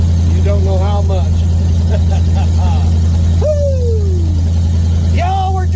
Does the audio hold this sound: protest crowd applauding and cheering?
no